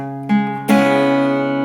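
A single guitar strum rings out with open, unmuted strings, preceded by a brief lighter strum; the chord sustains brightly and fairly loud with no voices.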